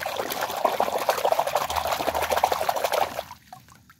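A toy animal washed under running water, a continuous close splashing trickle that cuts off near the end, leaving quiet.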